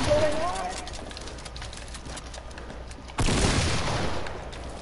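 Gunshots in Fortnite, a scattering of quick shots with a sharper, louder burst late on, heard under steady excited voices talking throughout.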